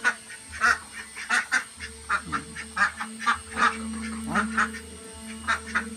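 Ducks honk and quack repeatedly in a lively, uneven series, fairly close by, with a low steady hum underneath.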